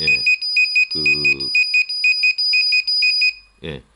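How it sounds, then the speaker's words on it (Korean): A SEVENCHIP B6V3 hobby battery charger beeps in a fast, steady series of short, loud electronic tones as a battery is plugged in, with brief bursts of nearby talk at the start and end. "지금 삐삐삐 소리 났죠"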